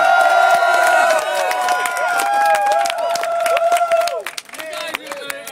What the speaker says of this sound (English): give yourselves a fucking cheer for doing this